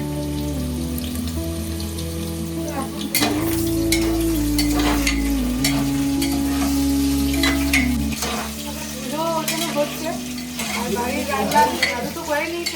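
Mutton cooking in a pan alongside fried potatoes, a loud steady sizzle with stirring clatters and scrapes, plus a brief tonal hum in the middle, no speech.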